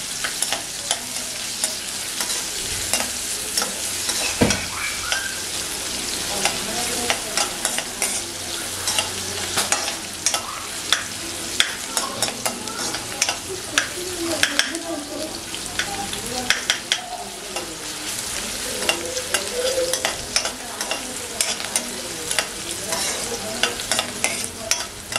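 Onions sizzle in hot oil in a pan, with near-constant stirring and scraping of a spoon close by that continues steadily with no talk.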